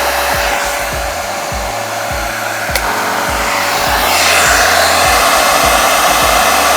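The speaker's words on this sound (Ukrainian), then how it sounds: "Компресор на ферзі." An air compressor running off a BLUETTI AC200Max power station, a loud steady motor whine with a rapid rhythmic pumping pulse throughout, no talk.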